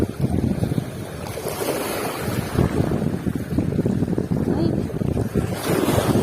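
Wind and waves buffet a fishing boat off Calatagan, Batangas, a steady rushing roar with wind noise on the microphone and lapping water throughout, loud and continuous.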